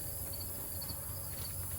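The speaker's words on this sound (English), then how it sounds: "Lots of grasshoppers still in here" Grasshoppers keep up a steady, dense chirring inside a high tunnel of tomato and pepper plants, faint and continuous throughout with no voices.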